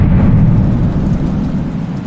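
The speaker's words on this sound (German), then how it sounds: "Alter, das Gewitter." A thunderstorm rumbles in the game Nobody Wants To Die, with a steady, loud low roar of thunder and rain holding throughout without a break.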